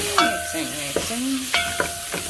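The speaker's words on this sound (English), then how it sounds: "You add ginger. You keep mixing. Keep mixing." Ginger is stirred into beef pilau in a cooking pot: a few sharp utensil scrapes and knocks over a steady background sizzle, close and fairly loud, with faint tonal sounds in between.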